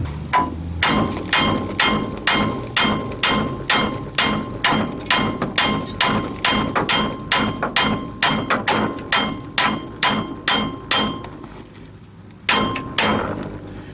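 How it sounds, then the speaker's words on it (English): Loud, sharp metallic hammer blows on a ball joint of a Ford twin I-beam truck repeat in a fast, steady rhythm, about two per second, with a brief pause before a final strike. "So let me grab a hammer and smack on that."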